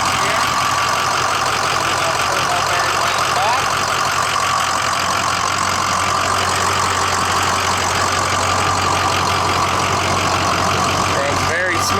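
A lifted 2005 Ford F250 Super Duty Lariat with a Powerstroke diesel and an aftermarket SMB cold air intake, its cover missing, idles with a steady, even rumble and a broad whooshing hiss from the open intake.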